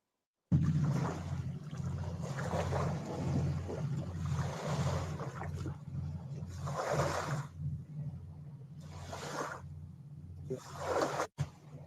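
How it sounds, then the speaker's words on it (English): Waves from a passing barge slap against a riverbank in repeated surging washes, loud and close, over a steady low hum, with a sharp knock near the end. "It's got waves slapping on the bank."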